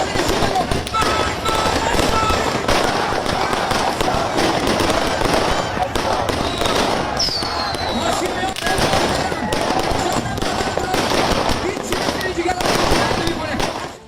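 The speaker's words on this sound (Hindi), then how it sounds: "पटाखे छोड़े जा रहे थे, आतिशबाजी हो रही थी ईरान में।" Fireworks and firecrackers go off in Iran in a dense, continuous crackle of pops and bangs over several seconds, with a crowd murmuring faintly beneath and a voice talking over it.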